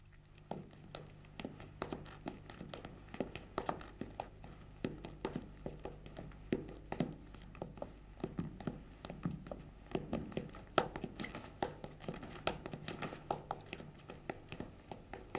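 Rapid tapping and stamping dance steps of the Szatmár csárdás, a Hungarian folk dance, sharp percussive heel and sole hits in busy irregular runs, moderately near, over a low steady hum with no talk.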